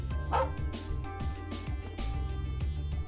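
A dog barks repeatedly in the video game Trails of Cold Steel, set in the Sachsen Iron Mine, with short yips and bow-wows over steady game music.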